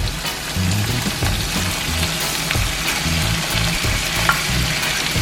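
Saltfish for ackee and saltfish fries in a pan with a steady, close crackling sizzle, broken now and then by soft stirring and scraping noises.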